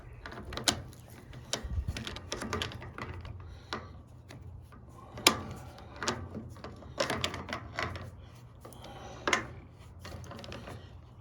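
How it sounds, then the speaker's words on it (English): A ratchet tightens a nut on a 1948 Ford 8N tractor, with quick bursts of sharp clicking strokes at irregular intervals over a low background hum, close up, no talk. "So now let's tighten the nut down"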